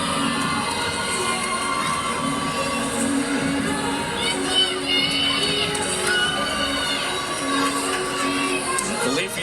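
A large crowd at a women's college gymnastics meet between Michigan State and UCLA cheers and shouts steadily, with high-pitched voices and a commentator talking over the arena noise.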